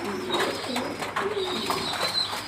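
Pigeons coo softly and repeatedly while being fed, low warbling calls close by over a steady outdoor background hiss, with a faint higher chirp now and then.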